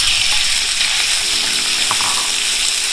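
Beef stir-frying in olive oil in a hot pan for beef chow fun, giving a loud, steady, close sizzle that hisses without a break.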